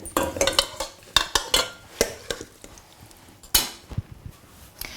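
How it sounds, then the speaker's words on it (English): Food being spooned from a pan onto a serving platter, with a run of close, irregular clinks and scrapes of a large spoon against dishes and a faint sizzle between strikes, no talking. "I'm going to leave you to spoon that onto our platter"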